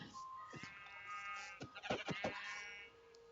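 Sheep in the survival video game Minecraft give a few short, nasal bleats at middle distance over a faint steady game background, with no talking.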